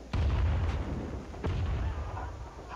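Gunfire and heavy explosions in the Rising Storm 2 battlefield, two loud booming blasts with rumbling tails, close and dominant, with no talking.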